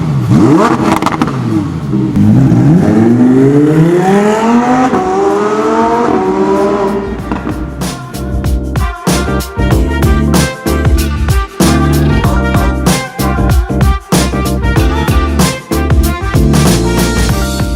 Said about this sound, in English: show you what this exhaust sounds like before